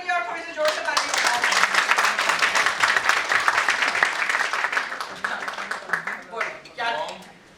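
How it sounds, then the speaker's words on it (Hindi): Audience at a personal agility and resilience session clapping loudly for a participant, a close, dense burst of applause that swells and then thins out, with a voice briefly heard at the start and end. "अरे प्रथम के लिए और थोड़ी सी जोर से ताली बजाओ."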